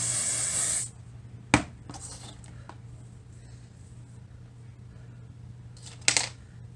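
A loud, steady hiss of hairspray lasts about a second at the start, followed by quiet room noise with a couple of soft clicks and taps.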